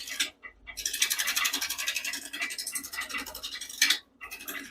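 A wood lathe spins a roughly balanced, not yet round bowl blank at about 600 RPM while a tool scrapes it, making a rapid rhythmic scratching with brief pauses where the cut stops.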